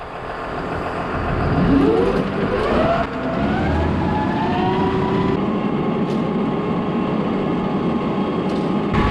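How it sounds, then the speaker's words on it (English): Backup generator driven by a farm tractor at a dairy during a power outage, a steady loud engine drone with a shifting whine that rises early on, then holds constant and close throughout. "So we just have a generator on the tractor."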